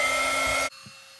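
A handheld embossing heat tool blowing hot air for papercraft, a loud steady whirring hum that cuts off abruptly partway through, leaving near silence with a faint click.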